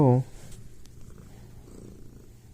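Domestic cat purring up close after a brief high vocal sound at the start, a soft steady rumble continuing to the end.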